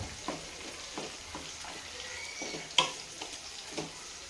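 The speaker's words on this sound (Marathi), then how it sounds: "इथं कांदा परताय टाकलेला आहे आपण कांदा परतून घ्यायचा आहे" Thinly sliced onion sautéing in a pan, a quiet, steady sizzle broken by regular stirring strokes with a spatula, roughly one every half second, and one sharper clink near the end, close, no voices.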